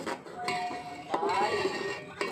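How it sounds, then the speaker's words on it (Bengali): A spoon scrapes and clinks against a pot while date palm jaggery is stirred into payesh, giving light metallic taps and knocks at uneven intervals, fairly close, with a voice talking faintly alongside. "খেজুরের গুড় একটু একটু করে দেবো আর নাড়বো"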